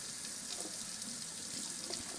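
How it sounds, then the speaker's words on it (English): A kitchen tap runs steadily, warming water to lukewarm for rinsing a Rolex watch over a sink; the hiss of flowing water is continuous and close, with no talk. "So I'm going to get water up to temperature."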